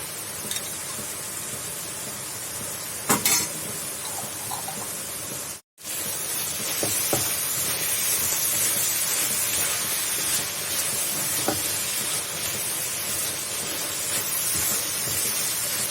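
Meat with a spoonful of tomato sauce sizzles in a pan for Egyptian béchamel pasta, a steady bright hiss running throughout, with a few scrape strokes and one brief dropout near the middle.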